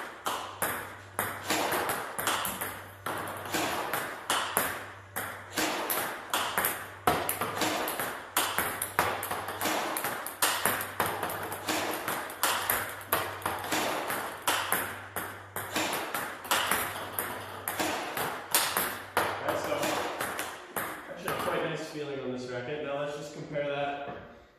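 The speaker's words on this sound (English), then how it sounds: "we're just going to loop some balls off the top spin and see how the sound compares" Table tennis balls looped off topspin and struck with a Butterfly Innerforce ALC racket, sharp ping-like hits in a rapid, steady rally for over twenty seconds, with a voice entering near the end.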